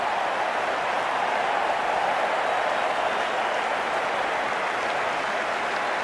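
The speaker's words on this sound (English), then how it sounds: "The crowd on their feet." A large cricket crowd at the Australia versus India 2023 World Cup match applauds and cheers in a continuous, loud, even roar that holds steady without break from start to finish, with no commentary audible.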